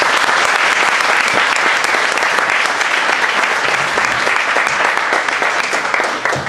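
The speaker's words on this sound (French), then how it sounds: "Je pense qu'on peut l'applaudir." A crowd applauds a contest winner at a camp gathering, dense and loud continuous clapping from many hands that holds steady and tapers slightly at the end.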